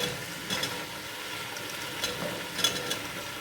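Diced potatoes fry in a pan with toasted tomato paste and black pepper, giving a steady, moderate sizzle with faint stirring scrapes and no talking.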